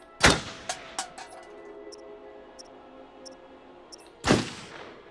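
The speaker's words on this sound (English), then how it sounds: "Of course, I had to shoot the marker." Two loud, close gunshots from Until Dawn ring out about four seconds apart, with faint clicks and light ticking in the quiet between them.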